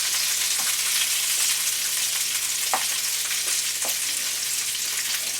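Kielbasa sausage browning with onions and peppers in a pan, a steady close hiss of sizzling broken by a few soft stirring knocks, no voices.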